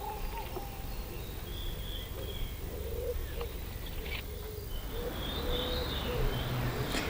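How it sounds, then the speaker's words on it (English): Faint birdsong drifts through a forest, with scattered high chirps and calls over a steady, soft background hiss. "listening to the forest and all of its inhabitants. The birdsong"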